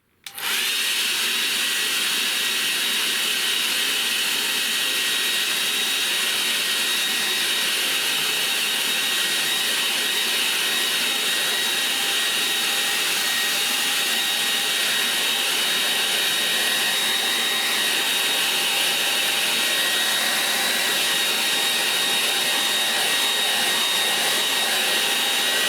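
A hair dryer blows steadily on a wet painting to dry the paint, a loud continuous whoosh that starts abruptly and runs unbroken for the whole stretch, with no voices over it.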